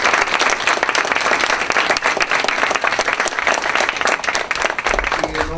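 An audience at a university debate applauds its speakers, with steady, dense clapping from many hands filling the room for several seconds.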